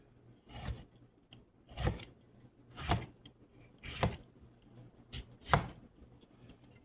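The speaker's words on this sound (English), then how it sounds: "I'm gonna go ahead and actually cut up these tomatoes too with the onions." A knife chopping tomatoes and onions on a cutting board, six distinct, fairly quiet strokes at a slow, roughly one-per-second pace, with no talking.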